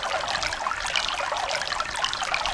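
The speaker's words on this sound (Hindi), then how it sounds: "देखो कितना पानी चल रहा है" Water runs and trickles steadily with a continuous, hissing splash and no pauses, fairly close, with no voices over it.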